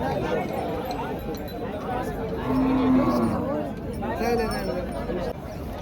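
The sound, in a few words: bulls at a village cattle market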